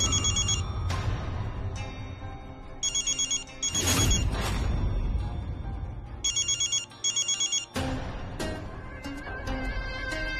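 A telephone rings in repeated short electronic bursts over a dramatic music score in a domestic television-serial scene, loud and close, with no talking.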